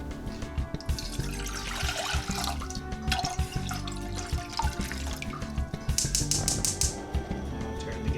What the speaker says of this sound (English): We're going to put in 4 cups of water, twice as many cups as the rice we're using.